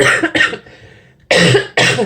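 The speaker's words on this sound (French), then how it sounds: "Je suis vraiment désolée pour cette toux." A woman coughs four times close to the microphone, in two pairs of harsh bursts separated by a short quiet pause.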